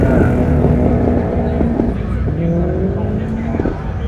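Loud purpose-built flat-floor race car engines roar and whine nearby at a Leyburn race meeting, pitch rising and falling as they pass, a continuous mechanical drone with no clear talk.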